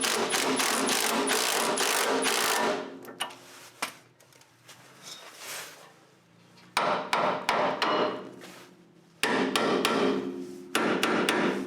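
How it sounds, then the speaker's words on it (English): Sharp metallic hammer blows on a Pitman arm puller freeing the Pitman arm on a Jeep Cherokee XJ steering setup: rapid bursts of close, loud strikes with short pauses between them. "I'm just going to be taking a Pitman arm puller, setting it over like this"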